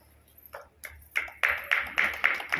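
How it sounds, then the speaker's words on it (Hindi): A church meeting audience in Nandurbar claps for themselves, starting with a few scattered taps and building into a steady round of claps from a small group, close and moderately loud. "खुद के लिए ताली"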